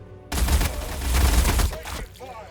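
Gunfire in the Warhammer 40,000: Battlesector strategy game, a dense burst of overlapping shots and booms that starts abruptly, rolls on for over a second, then fades into quieter effects.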